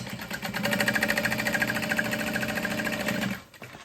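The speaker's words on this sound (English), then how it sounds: "We'll sew across the top of that." A sewing machine stitching across the top of a bag lining panel runs in one steady, fast mechanical whir for about three seconds, then stops abruptly, close up with no talking.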